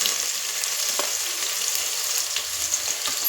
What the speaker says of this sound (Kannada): ಮೊದಲಿಗೆ ಸ್ವಲ್ಪ ಈರುಳ್ಳಿಯನ್ನು ಹಾಕೊಂಡು ಫ್ರೈ ಮಾಡ್ಕೊಳ್ಳೋಣ